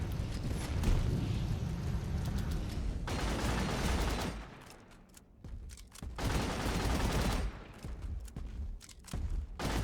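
A CRASSUS detonator explodes in the mining game Deep Rock Galactic, with loud, rumbling blasts arriving in heavy bursts, easing briefly in the middle and then surging again, with no voices.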